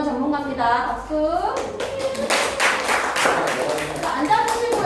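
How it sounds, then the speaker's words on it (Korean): Classroom students clap briefly for newly named group experts during a lesson, a short burst of hand claps breaking in after a teacher's voice and fading as talk resumes. "박수."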